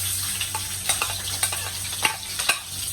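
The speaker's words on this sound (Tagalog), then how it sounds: "After the garlic, we're going to put the onions." Onions sizzle steadily with garlic in a hot pan, punctuated by repeated scrapes and clinks of a utensil stirring, close-up and alone without talk.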